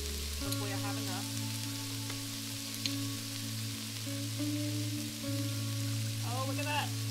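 Worcestershire sauce poured onto meat already sizzling in a frying pan, a steady close crackling fry with a brief splash and bubbling as the liquid hits, plus faint clinks.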